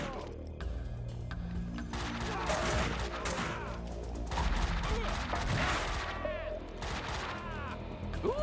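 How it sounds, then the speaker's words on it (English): Rapid AK-47 bursts in the video game Max Payne 2, loud close shots with cracking impacts and debris, firing in several clusters over steady game ambience. "this is the AK-47!"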